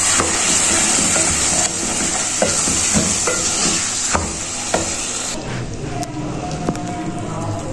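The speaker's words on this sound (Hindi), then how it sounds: "अब हमने इसे अच्छी तरह कर लेना मिक्स अपने मसाले के साथ, जो हमने मसाला भूना है।" Chana dal being stirred into fried spices in a pan, with a steady sizzle and hiss and scraping spoon strokes that soften after a few seconds, close and alone.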